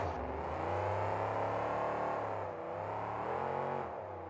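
A monster truck engine roars at a 2002 KORR event in New Orleans, revving loudly with rising and falling pitch and a brief dip midway before surging again.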